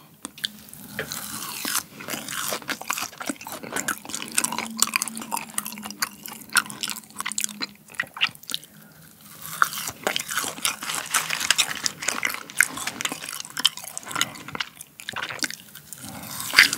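Raw sea urchin roe eaten up close, with steady wet chewing and soft biting and squelching that continues the whole time without any talk.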